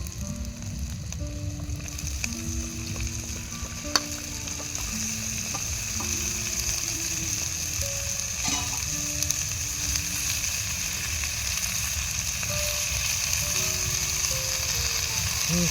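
Chopped vegetables sizzling steadily in hot oil with spices for a festive khichdi, a soft continuous fry under a melodic background song.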